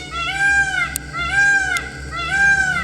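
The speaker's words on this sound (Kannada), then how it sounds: "ಮರದ ಮೇಲೆ ಎಲ್ಲೋ ಕೂತಿರೋ ನವಿಲು ಕೂಗ್ತಾ ಇರುತ್ತೆ." A peacock calls from a tree in forest habitat on a tiger safari. It gives three loud, drawn-out, trumpeting cries about a second apart against a faint background.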